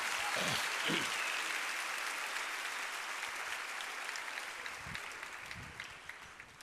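A Baptist church congregation applauds during an evening worship service, dense sustained clapping from many people that slowly thins and fades, with a few low vocal sounds near the end.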